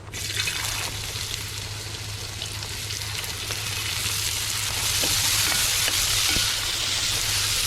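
Carrot fries in a pan after mustard seeds have popped. A close, busy sizzle of hot oil runs throughout with occasional stirring and grows slightly louder toward the end.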